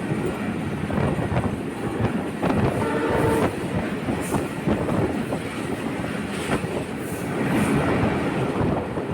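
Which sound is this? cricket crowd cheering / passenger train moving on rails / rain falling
passenger train moving on rails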